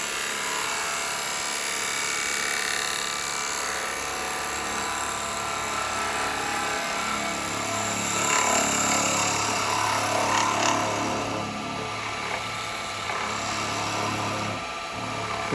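A chisel cuts a cherry almond natural bowl on a woodturning lathe, a continuous close grinding scrape over the motor's hum that runs the whole time with no voices.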